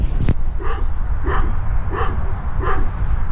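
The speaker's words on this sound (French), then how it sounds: "C'est quoi l'excitation de la sortie?" An excited dog, a rescue once rated aggressive, gives a sharp bark and then a run of four or five rhythmic whimpering yips, close and loud over a rumbling background.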